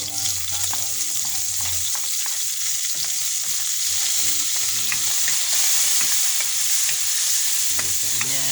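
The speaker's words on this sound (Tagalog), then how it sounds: "Lagyan natin sibuyas, bawang, halo-halo na." Onion and garlic stirred as they fry in a pan for a Filipino dish, a steady loud sizzle with scraping stir strokes throughout and no talking.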